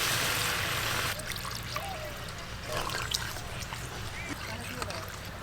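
Water is poured into a pot of bottle gourd curry, starting with a short, steady rushing splash and then settling into a soft, uneven trickle and low bubbling.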